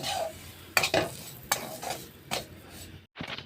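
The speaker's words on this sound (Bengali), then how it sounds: "এবার সুজিটাকে আমি ভালো করে নাড়াচাড়া করে একটু ভেজে নেব" Semolina is stirred and fried in ghee in a pan, with a soft steady sizzle under several scraping stirs of a spoon against the pan, close up and with no talking.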